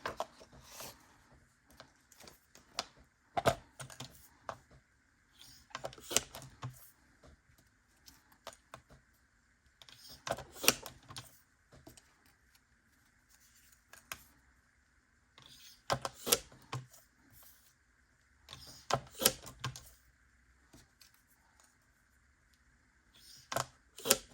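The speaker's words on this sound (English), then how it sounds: "So we're gonna cut them in half on our trimmer." Paper circles being sliced in half on a paper trimmer, heard as quiet, intermittent clusters of sharp snips and clacks spread across a calm room.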